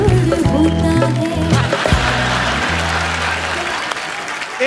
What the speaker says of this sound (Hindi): एक बार सीआईडी की पूरी टीम के लिए जोरदार तालियां